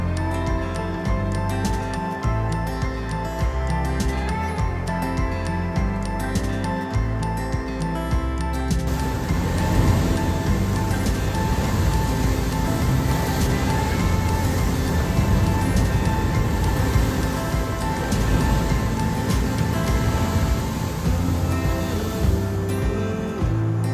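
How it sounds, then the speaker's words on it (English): Surf crashing on the Wild Coast of South Africa's Eastern Cape: a loud, steady roar of waves that fills the whole stretch without pause, with no voices heard. "It's spectacular just to see the waves crashing, the noise the waves make."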